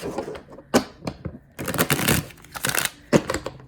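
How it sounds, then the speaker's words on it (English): Cards riffle and snap in repeated quick bursts, crisp and close, with short pauses between shuffles and no talking. "shuffling the deck a million times."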